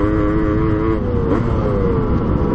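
Kawasaki KDX 125 dirt bike engine running steadily while being ridden, a close, continuous two-stroke drone with wavering pitch that rises briefly midway, loud and alone.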